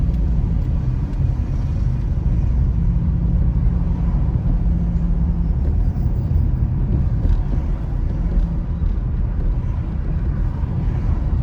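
A car drives along Old Hope Road in the Liguanea area, giving a constant loud rumble of engine and road noise from inside the vehicle that holds steady throughout.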